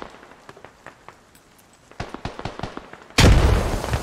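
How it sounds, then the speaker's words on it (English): Gunfire crackles in scattered single shots across an open field in the video game Squad, followed by a sudden loud burst from an artillery smoke barrage landing close by; no talking. "Artillery level smoke barrage be happening in this open field."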